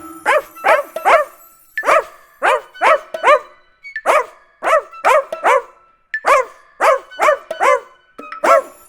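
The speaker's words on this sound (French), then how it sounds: "c'est lui mon petit chien." A small dog barks repeatedly in quick groups of two or three sharp, yappy barks, loud and close, with short gaps between the groups, as part of a children's song.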